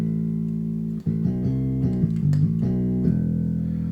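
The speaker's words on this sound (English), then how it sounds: "the old Formula 1 theme as it was quite iconic and played on the bass guitar like this" The old Formula 1 theme is played on bass guitar as a steady run of low, resonant plucked notes that change pitch in a clear melodic line, heard alone and up close.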